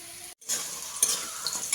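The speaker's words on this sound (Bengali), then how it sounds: "আলুগুলো লাল লাল করে ভাজা হয়ে গেছে" Potatoes fry in hot oil with a steady close hiss, briefly cut off for a moment and then resuming, with light clicks from stirring; no talk.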